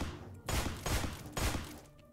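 Gunfire from a 10 millimeter pistol in the video game Deadbolt. Three loud, close, booming shots ring out at roughly even intervals, each trailing off quickly, with no speech.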